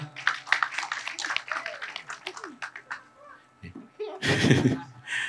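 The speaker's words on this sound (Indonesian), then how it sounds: "tepuk tangan dulu buat Mas Pram" A talk audience gives a short, loud burst of clapping for the speaker Mas Pram, following a stretch of spoken voices.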